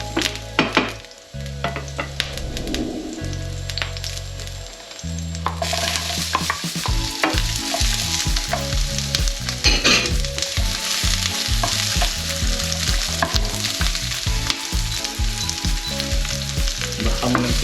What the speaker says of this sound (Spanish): Cuando estén los ajitos doraditos, le echaremos la cebolla